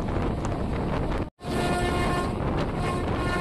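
A passenger train runs through Otgi junction in a loud, continuous roar of wheels and rushing wind heard from on board, broken by a sudden brief dropout before the rumble resumes; no voices.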